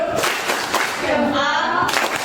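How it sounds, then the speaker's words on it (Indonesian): A group claps in salute in a school classroom, a short, loud burst of hand claps close by, mixed with a few voices. "kita kasih tepuk salut"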